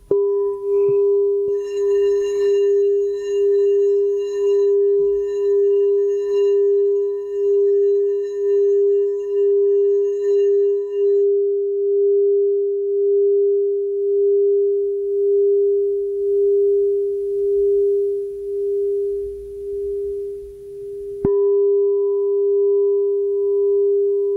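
A large aluminum singing bowl rings with a steady, sustained pure hum and shimmering overtones, pulsing gently; around 21 seconds it is struck again and rings on.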